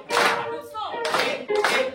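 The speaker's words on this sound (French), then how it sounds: "Applaudissons." An audience applauds at a Sabbath celebration event in Paris, with bursts of clapping that swell, dip briefly and then resume, accompanied by some cheering voices.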